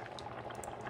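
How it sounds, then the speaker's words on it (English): Liquid coming to a boil in a pan for Spanish octopus rice, a steady close bubbling and popping with small crackles throughout, no voices. "Starting to boil."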